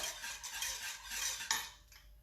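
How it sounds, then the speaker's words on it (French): A raspberry bavarois mixture being stirred in a bowl, with a soft continuous scraping and swishing close by. One small clink comes near the end, and there is no speech. "Alors là, je remue."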